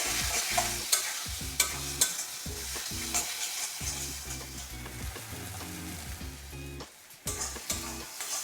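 Ground cumin and turmeric stirred in a frying pan, a spoon scraping in a steady rhythm of strokes with sharp clinks against the metal over a constant close sizzle.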